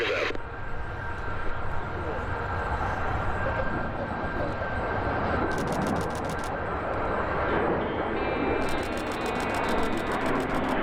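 Four L-39 jet aircraft roar overhead at an airshow in a broad, sustained rush that swells and fades, with faint voices and rhythmic ticking bursts over it.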